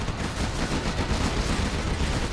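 Rapid chain gun fire from units in the Nuke Wars real-time strategy game, a dense continuous rattle of overlapping shots held at steady loudness throughout, with no talk.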